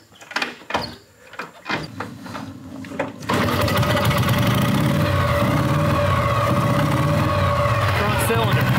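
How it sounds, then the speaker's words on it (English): An old motorcycle engine with a dead front cylinder is cranked, clatters and catches, then runs on continuously with a rough, uneven, loud idle as people talk in a cluttered garage. "Front cylinder. It ain't firing. Well, you guys can hear it."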